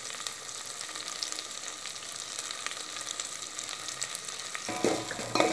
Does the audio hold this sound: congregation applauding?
no